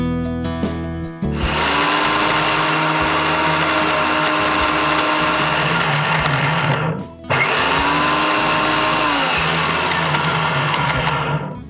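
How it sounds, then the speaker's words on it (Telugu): A mixer grinding poppy seeds into a paste, a loud close whirring drone that starts after a brief pause, cuts out for a moment, then resumes steadily. "సో ఇప్పుడు ఇవి గ్రైండ్ చేసుకుందాం"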